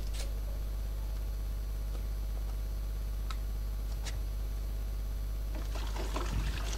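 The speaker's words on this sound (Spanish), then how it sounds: "Llenamos de agua embotellada" Bottled water poured into a container on a patio for an onion, garlic and chili pesticide mix. A quiet, faint trickle with a few scattered clicks grows into a livelier splashing pour near the end.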